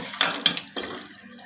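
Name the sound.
water poured into chicken curry gravy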